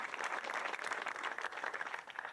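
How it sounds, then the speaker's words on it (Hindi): A studio audience at a televised Indian political debate show applauds, a dense wash of clapping that holds steady and fairly loud for a couple of seconds with no voices on top. "आप अपने लिए भी जोरदार ताली बनाइए,"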